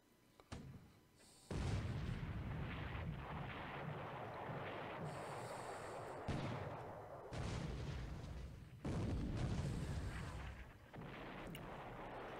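Deep rumbling booms of naval gunfire in a World War II strategy video game, several heavy sustained blasts rolling one after another with no talking.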